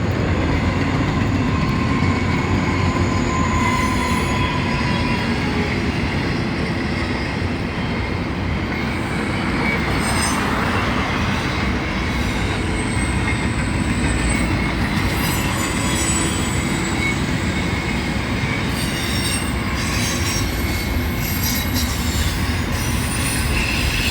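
CSX intermodal freight train with three locomotives passing close by, a loud continuous rumble of rolling wagons with clacking wheels and intermittent high metallic wheel squeals over the full stretch, no talking.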